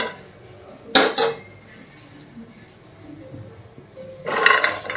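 Raw cashews tipped into a pan on a gas stove: a sharp rattling clatter, a quiet pause, then a second burst of rattling as more nuts land in the metal pan.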